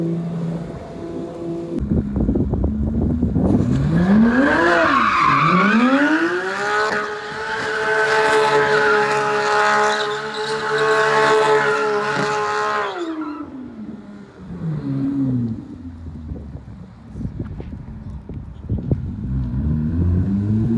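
Porsche GT3 car doing donuts, engine revving hard with a long rising and sustained tire squeal heard from nearby, then the engine note dropping and fading back to a lower rumble.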